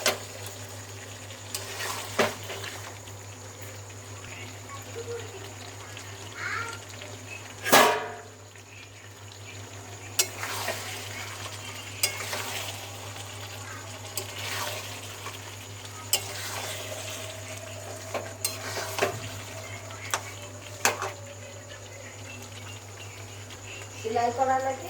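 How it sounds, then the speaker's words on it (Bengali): Mutton being sautéed down for biryani in a pan, with steady stirring scrapes and a soft sizzle over a constant low hum, broken by a few sharp clanks of utensil against pan. "তাই যে মটন কষানো চলছে।"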